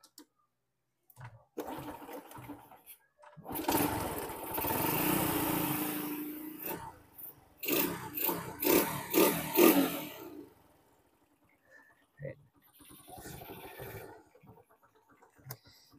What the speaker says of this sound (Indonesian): Kita coba nyalakan ya untuk pengetesan apakah gasnya itu ngancing atau tidak.